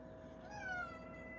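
A house cat gives a single drawn-out meow, close and moderately loud, over a quiet room background.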